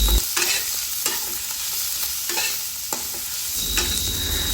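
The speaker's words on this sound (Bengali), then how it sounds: "শাকগুলো দিয়ে আর একটু ভাজা ভাজা করে নেব।" Boiled red amaranth greens are stir-fried in a pan, with a steady close sizzle and regular scraping strokes of a spatula recurring about once a second.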